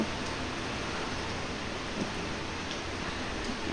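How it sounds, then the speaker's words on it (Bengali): Heavy rain pours steadily outside during a storm, a faint, even hiss of falling water with no breaks or voices. "চারিদিকে কি বৃষ্টিটাই না হচ্ছে দেখো, ভীষণ বৃষ্টি হচ্ছে।"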